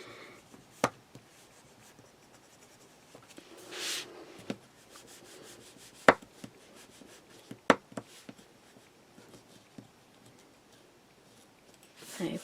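A bone folder rubs and presses along a paper join on a handmade mini album, quiet, intermittent scrapes with a few sharp taps, close and soft.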